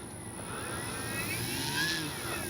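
A FLEX RV-8 60E G2 RC model airplane taxies on grass outdoors, its motor giving a faint, steady whine with slowly rising and falling pitch, heard from a short distance.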